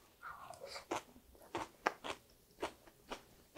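Crisp bites and crunchy chewing of salad with a garlic and olive oil dressing, about six or seven distinct crunches in a quiet, close setting with no speech.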